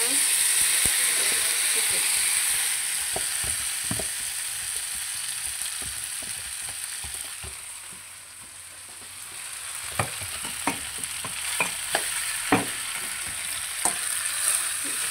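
Tofu for tokwa baboy sisig sizzles loudly in hot oil, a steady hiss that dips and then returns, with sharp scrapes and clinks from stirring in the pan.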